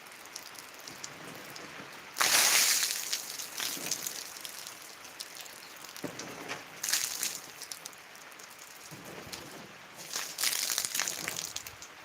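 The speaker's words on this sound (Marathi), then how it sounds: "पाऊस अजून चालूच आहे रिमझिम पाऊस चालू आहे" Steady light drizzle patters softly on surfaces outdoors at a hillside Balumama temple, with a few louder bursts of drizzle coming and going; no voices.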